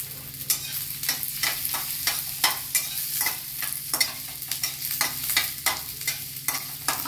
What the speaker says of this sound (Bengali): তাকে আমি ফ্রাই করে নিচ্ছি